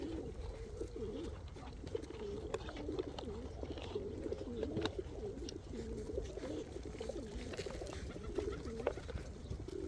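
Pigeons coo repeatedly in soft, rolling calls, steady and close, with light background noise and no talking.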